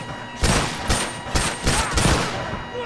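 Gunfire in the video game The Last of Us Remastered, a rapid burst of about five or six loud, sharp shots fired in quick succession, close and punchy.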